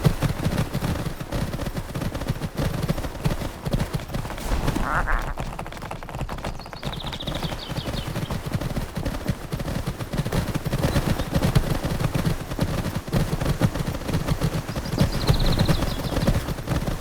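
Horse hoofbeats galloping in the Horse Club Adventures 2 video game, a steady, dense clip-clop rhythm running continuously over game ambience, with faint chime-like effects now and then.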